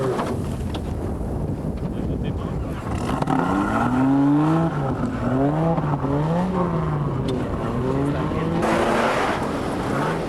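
Rally car in the 1993 Safari Rally working over steep, soft sand dunes, engine revving and wailing with rising and falling pitch, loud and near, with light outdoor background noise.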